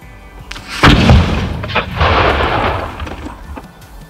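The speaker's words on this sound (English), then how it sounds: "That's a cannon!" A single deep blast from a 3.5-inch cast iron cannon firing 1.25 kg of black powder booms out close by, followed by a rumbling echo that rolls and fades over several seconds.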